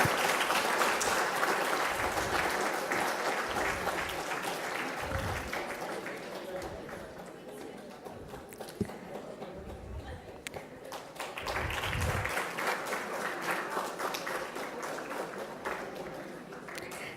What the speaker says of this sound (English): Let's cheer the teachers with a huge round of applause